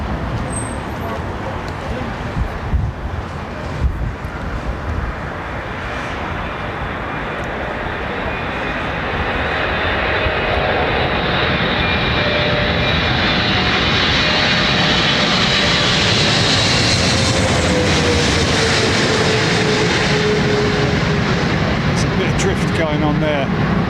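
Airliner landing in a crosswind at London Heathrow Airport, a steady jet roar that builds and swells as the plane passes, with a voice talking over it and faint road traffic beneath.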